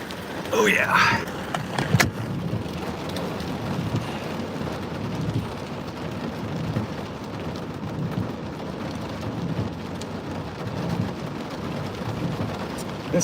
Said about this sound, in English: It's not even really a storm, it's just a heavy shower.